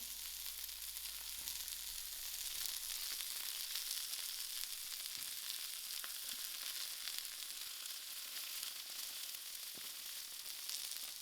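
Chicken cooking on a stove sizzles steadily, a continuous hissing fry with faint crackles and no talk.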